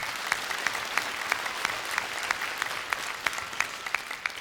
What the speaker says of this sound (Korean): 여러분 많은 박수로 환영해 주시기 바랍니다